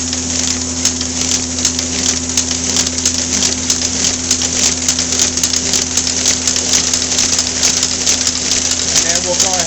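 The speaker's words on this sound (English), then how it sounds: "So now we have a completed collated set going into the envelope and being sealed and delivered to the conveyor." A Mailcrafters Model 9800 envelope inserter runs nearby, collating, stuffing and sealing envelopes onto a conveyor, with a loud, steady mechanical hum and rapid ratcheting clatter that repeats without a break.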